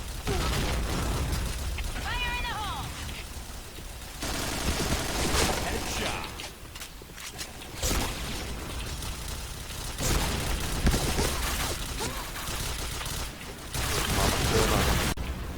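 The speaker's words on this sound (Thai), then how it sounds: "เมื่อกี้มันระเบิดรัวๆหรือว่าสามสามวะ" Rapid bursts of gunfire and explosions from a first-person shooter match, dense and loud throughout with sharp repeated cracks, under excited talk from a player.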